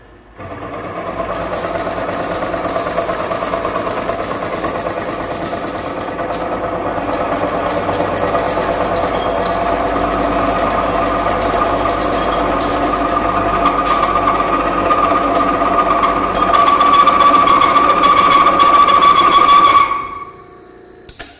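A Falex lubrication wear test machine runs with oil on its race, giving a steady, loud mechanical whine and hum with a constant tone that holds for about twenty seconds before cutting off abruptly.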